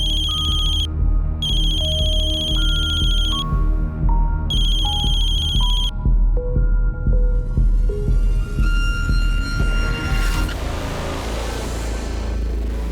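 Mobile phone ringtone from a repeated incoming call, playing as a bright, steady electronic melody of stepped tones over a low rumble, loud and continuous throughout with no talk.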